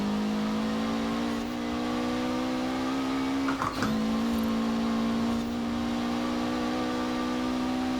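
A red Subaru WRX in the Forza Horizon 4 racing game drones with a steady, loud engine tone at constant revs, broken briefly by a short rattling bump partway through, then holding a smooth roar to the end.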